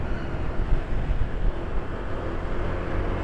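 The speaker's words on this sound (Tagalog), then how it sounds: "o yan malakas ang hangin" Strong wind roars across the microphone of a DJI Osmo Action 4 camera in a continuous low rumble, steady and loud throughout.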